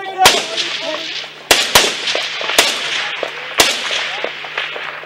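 Rifle rounds fired in combat in Afghanistan, five or six sharp, loud cracks at irregular intervals, each trailing a rolling echo, with faint voices in between.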